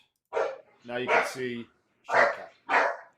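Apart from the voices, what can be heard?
dog barking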